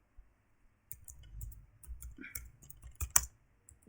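Typing on a computer keyboard: a short, quiet burst of close, irregular key clicks and taps, with a few near-silent pauses between strokes.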